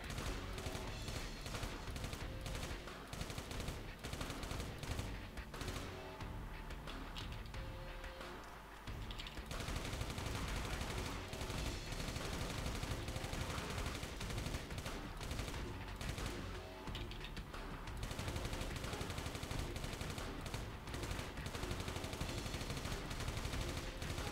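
Dense, continuous bursts of rapid machine-gun fire in the video game Final Exam fill the whole stretch, loud and relentless, with a short lull midway before the barrage resumes.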